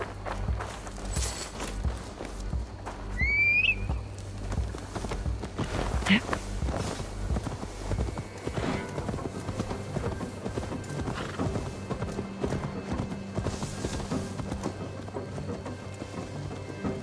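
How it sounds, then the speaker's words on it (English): Horse hooves clip-clop in the Viking-era game Assassin's Creed Valhalla, a steady walking rhythm heard mid-distance under a bed of game music and ambient noise, with a brief whinny early on. "Now to deliver Magni his horse."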